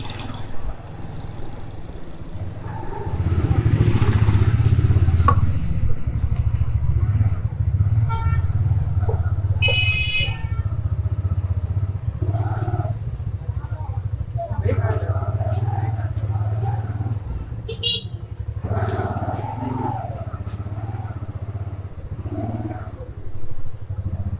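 A motorcycle engine idles and revs nearby at the Umar Hayat Mahal heritage site in Chiniot, a steady low putter that swells briefly, with people talking and some clattering around it.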